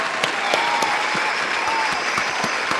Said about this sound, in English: round of applause for Ty Young